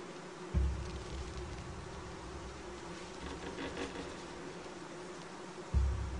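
Honey bees buzzing at the entrance of a hive, a steady, close insect drone with no talk over it and two brief low thumps near the start and end.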